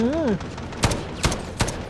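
Gunfire in the video game Delta Force: Black Hawk Down, three loud separate bursts spaced about a second apart, following a brief wavering tone, with players talking around the shots.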